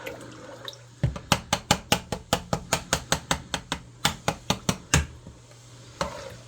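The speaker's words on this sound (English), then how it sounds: "I'm always going in there, chopping up those bigger chunks of meat." A rapid series of sharp knocks, about two per second, like a utensil chopping against a pan, pausing briefly then resuming.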